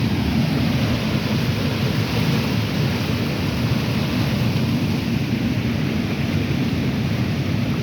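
Waterfall at Smith College running at high water after heavy rain and flooding, a steady, dense, close roar of rushing water with no breaks and no talk over it.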